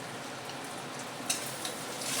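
An egg frying in a pan while chowmein is made, heard as a dense, even hiss of sizzling oil held at a steady level close by, with one sharp tick partway through.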